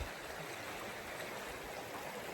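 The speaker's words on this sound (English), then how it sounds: "That log goes over the river." A trailside river rushes steadily beneath a fallen log crossing, a constant close broadband wash of flowing water with no breaks or voices.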